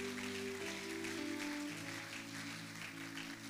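A church congregation applauding during a sermon, dense steady clapping filling the hall, with sustained music tones running underneath.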